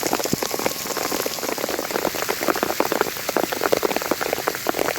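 Steady rain pouring down, a dense close hiss of drops hitting surfaces with scattered louder splats, constant throughout with no voices.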